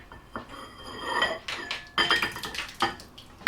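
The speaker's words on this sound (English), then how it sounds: "So we're going to scrape the custard into the bowl." A spoon or spatula scrapes and clinks against a pan as raspberry custard is scraped into a small bowl, with short, close scraping strokes and metallic knocks in an uneven rhythm.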